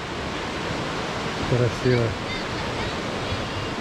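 Broad, steady rush of flowing water at Tel Dan in a lush forested nature reserve, continuous and fairly close, with a person speaking briefly over it midway.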